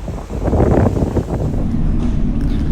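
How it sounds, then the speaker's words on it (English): Wind buffets the microphone on the deck of a car ferry, a steady loud rumbling roar that holds for a few seconds with no talk. "It's not as windy at the moment."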